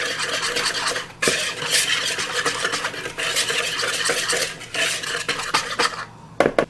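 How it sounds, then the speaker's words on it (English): Almond flour, baking powder and salt are mixed in a bowl with steady, continuous scraping and clinking of a utensil against the sides, close and fairly loud, with brief pauses and no talking. "Just give this a good mix."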